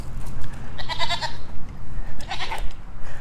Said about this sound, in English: And then here's the goats.